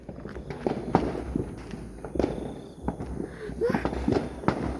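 New Year fireworks crack and pop in sharp bursts at close range, several reports scattered over a few seconds against crackling and shuffling, with people talking and exclaiming around them.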